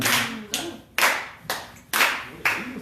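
A group claps in steady unison along to an unaccompanied folk-style song at a candlelight gathering, loud crisp claps landing about every half second with faint singing voices underneath.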